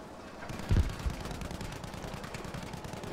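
Gunfire in Battlefield V, with an enemy rifleman repeatedly firing: a heavier burst near the start, then a steady background of distant rattling shots and battle noise.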